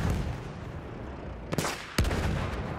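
Two sharp, loud rifle shots from a sniper in Battlefield 1 crack about half a second apart over a dull, steady battlefield rumble, the second one slightly heavier.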